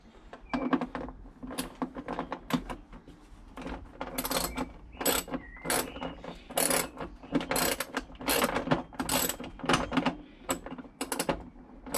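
Screws are driven into a freezer door during a door changeover, giving repeated sharp ratcheting clicks and mechanical rattles in uneven bursts, fairly close and alone.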